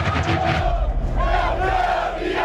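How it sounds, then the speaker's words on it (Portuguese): Santos football supporters roar at Vila Belmiro stadium as the team comes out, a loud, dense wall of massed voices chanting and cheering continuously from a packed crowd. "A torcida do Santos mostrou todo o apoio para o time sair da zona do rebaixamento com essa recepção."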